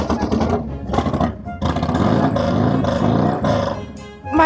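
A motorcycle engine with a choke that will not stay out revs hard and close, a continuous rough roar that rises and falls in uneven surges with one brief dip midway.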